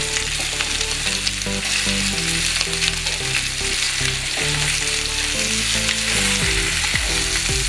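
Onions sizzle loudly in a hot pan while pork ribs are being prepared, a steady close frying hiss with stirring and faint scraping. A tonal background hum runs underneath throughout.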